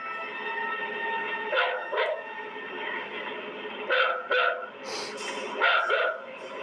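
A dog barks in short bursts, a few single and paired barks spread over several seconds, moderately distant over a steady droning background hum.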